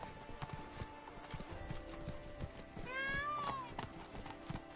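Roach, the horse in The Witcher 3 game, trots with a rhythmic clip-clop of hoofbeats, fairly faint, while a high whinny-like call rises and falls briefly midway.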